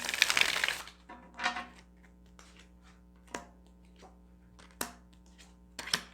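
Tarot cards are shuffled by hand: a dense riffling burst opens, followed by a second softer shuffle and several sharp, isolated card taps spaced across an otherwise quiet room.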